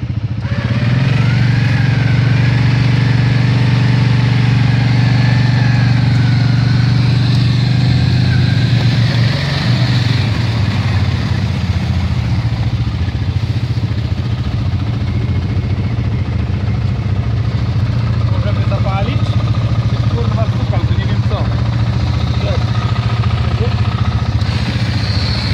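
A 2016 Arctic Cat ATV stuck in mud, its engine held at a steady, loud, rumbling rev while it is winched out, with voices talking over the engine.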